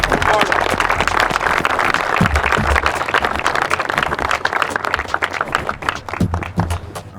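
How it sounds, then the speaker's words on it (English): A crowd applauds a wrestling champion at a competition event, producing loud, dense, continuous clapping with a rumbling low undertone. The clapping thins toward the end. "Everybody, round of applause."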